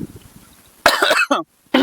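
A man's harsh cough bursts out twice in quick succession, close and loud, followed by a brief throat-clearing hack after a short silence.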